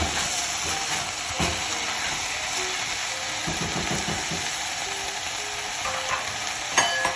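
Broccoli rabe with Parma ham sizzling in a Staub oval cocotte as it is stirred, a constant bright frying hiss with intermittent scraping and clinking of a utensil against the pot, close up.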